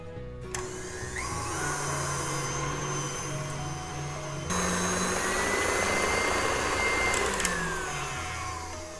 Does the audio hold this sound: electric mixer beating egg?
yes